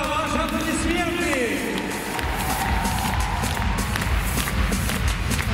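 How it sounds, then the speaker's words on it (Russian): An arena audience at a figure skating exhibition gala applauds and cheers, a dense sustained roar of clapping and crowd noise, with an announcer's voice over it at the start. "ваши аплодисменты!"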